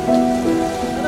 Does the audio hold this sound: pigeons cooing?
no